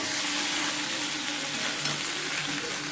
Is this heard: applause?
no